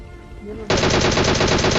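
Automatic gunfire in a battle royale video game erupts suddenly after a quieter stretch with faint game sounds, then holds as a loud, rapid, unbroken burst of shots up close.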